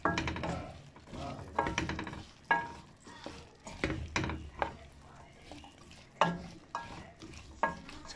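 Fava beans with paprika being stirred in a frying pan, giving soft scraping and clattering strokes at an irregular rhythm over a faint sizzle. The sound is close and fairly quiet.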